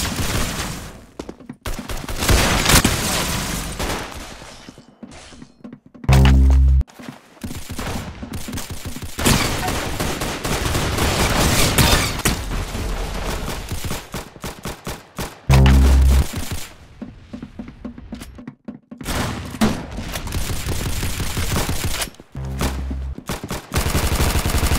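Rapid bursts of gunfire from the Roblox shooter game Arsenal, loud and close, with repeated automatic volleys and a few sharp heavy shots spread across the round, without any talk.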